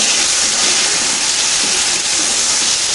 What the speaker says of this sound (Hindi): अभी हम इसके अंदर टमाटर ऐड करेंगे, मिक्स करेंगे